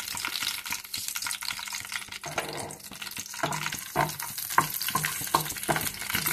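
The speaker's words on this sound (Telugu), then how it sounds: "ఆయిల్ ఈటెక్కిన తర్వాత ముందుగా పచ్చిమిర్చి నూనెలో వేసి" Green chilies frying in hot oil in a pan for peanut chutney, a steady close crackling sizzle with some stirring clatter and watery splashes, no voices.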